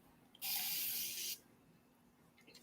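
A single burst of spray from a water spray bottle onto hair, about a second long, close and loud, then a quiet room.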